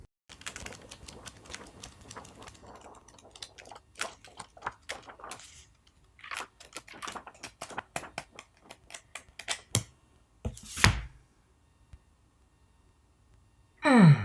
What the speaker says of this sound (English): whenever you're flipping through it and you kind of hear the pages sticking together because the paint's on them